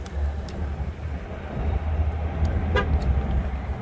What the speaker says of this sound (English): you heard the horn honk twice